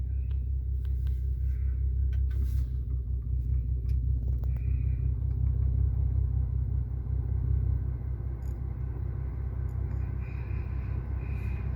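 Idling engine of a VW Passat, Golf or Jetta heard from inside the car, a steady low rumble running throughout with faint interior clicks and rustles.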